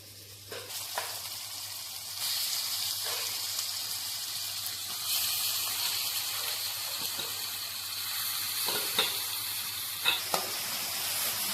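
Fish pieces for a fish curry fry in oil in a pan, with a continuous loud sizzle and a few scattered clicks and scrapes as they are stirred.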